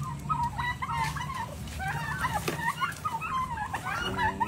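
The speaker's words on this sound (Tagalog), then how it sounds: "Pabo." Turkeys gobble repeatedly in rapid warbling bursts, several birds close by on a farm, with other fowl sounds mixed in.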